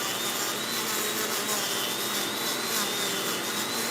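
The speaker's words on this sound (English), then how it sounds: "Now I have the vacuum sucking up all the dust right away" A shop vacuum runs steadily close by, sucking up dust while a hose is sanded smooth during a repair, a loud continuous whooshing roar with a faint high whine and no talking.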